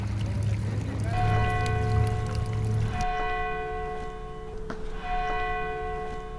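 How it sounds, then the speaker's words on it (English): Church bells of Old Mission Santa Barbara ring with sustained overlapping tones, struck again a few times so the metallic hum rings on, mixed with some background noise. "the bells of Old Mission Santa Barbara have echoed throughout the region"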